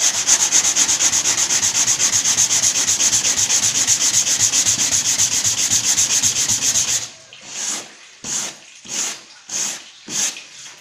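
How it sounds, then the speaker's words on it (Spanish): Sandpaper is rubbed by hand along the cut edge of a laminate sheet, first as a steady continuous rasp, then as five separate rhythmic strokes, loud and close with no talk. "Aquí tomamos nuestra lija y aplicamos de forma plana y en 45 grados"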